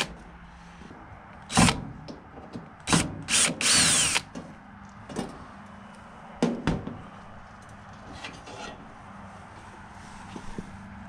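Power drill backing screws out of the rear panel of an LG DLEX8000V dryer, several short loud whirring bursts with pauses between them, close up, no talking.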